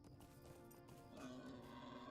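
A horse neighs in a video game, a clear whinny rising midway over hoof clip-clops, fairly faint against a quiet background.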